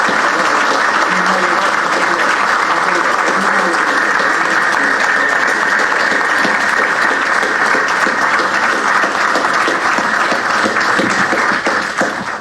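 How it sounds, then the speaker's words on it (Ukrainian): Loud, sustained applause from a large crowd at a Ukrainian Armed Forces Day ceremony, steady dense clapping for about twelve seconds without letting up. "Вам всі аплодують."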